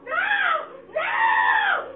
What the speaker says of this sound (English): Her screams ring out as the struggle goes on.